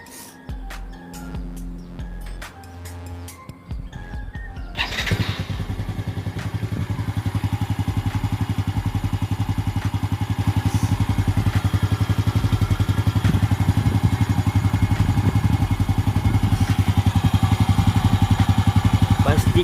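A Yamaha Lagenda 115 FI motorcycle's engine starts partway through after a few quieter knocks and clatter, then settles into a steady, close, loud idle that runs on evenly to the end.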